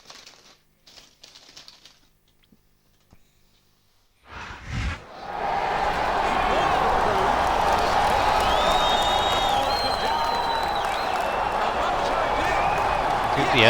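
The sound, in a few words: crowd noise in WWE SmackDown vs RAW 2008 video game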